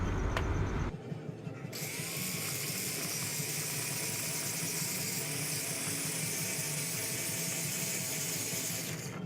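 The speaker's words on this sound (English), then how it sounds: "Now I'm just grinding off the last bit of metal that I couldn't cut off" A power tool grinds steadily on a steel billet in a forge workshop, a loud continuous abrasive whine after a brief lower rumble at the start, with no talking.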